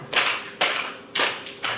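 Hand claps for a counted classroom clapping pattern, four sharp claps spaced roughly half a second apart, fairly close and clear with no talk over them.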